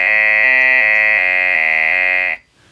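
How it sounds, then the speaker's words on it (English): A Heathkit Hero Jr. robot sounds a loud, piercing electronic intruder alarm, a sustained buzzing tone that steps in pitch every half second or so for over two seconds, then cuts off abruptly into near silence. "After 5 seconds, he triggers an alert. This basically amounts to making a lot of noise."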